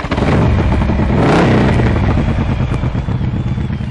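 A 2006 Harley-Davidson Ultra Classic Electra Glide Screaming Eagle CVO runs loud and close, its deep, lumpy V-twin idle swelling into a brief rev before settling back to a steady throb.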